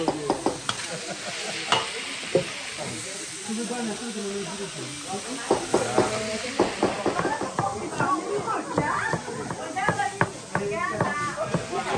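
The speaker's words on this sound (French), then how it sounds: "On mélange le poisson, le couscous." Fish, couscous and green onions are stirred together in a sizzling pan, giving repeated scraping and clattering strokes over a hissing fry while people talk nearby.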